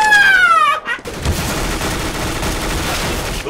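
Rapid gunfire from the video game CS:GO, a dense burst of shots crackling steadily for several seconds right after a rising electronic tone, loud and close.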